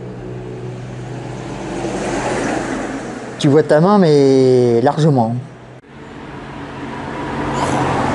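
A car engine idles and revs close by on a street, swelling briefly into a louder, rising whine mid-clip, with traffic rumble throughout and people talking in French over it.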